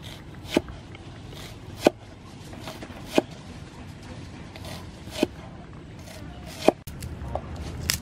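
A knife chops wakame seaweed salad ingredients on a cutting board, about six sharp, evenly spaced thuds roughly a second and a half apart, close and clear over faint kitchen background.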